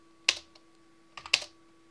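Two short bursts of computer keyboard typing, quick clustered key clicks about a second apart, crisp and close in an otherwise quiet room.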